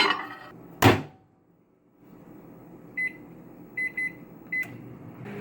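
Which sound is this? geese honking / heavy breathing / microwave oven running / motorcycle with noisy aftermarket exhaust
microwave oven running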